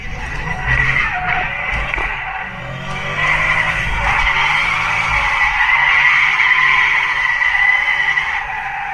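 A Chevrolet C6 Corvette drifting produces a loud, sustained tire squeal and skid with an engine rumble beneath, swelling and fading but continuing for the whole stretch with no voices.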